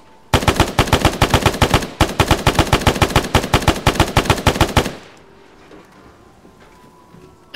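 Automatic gunfire from the video game Arma 3 rattles in two loud, rapid bursts lasting several seconds, then cuts to a quiet lull.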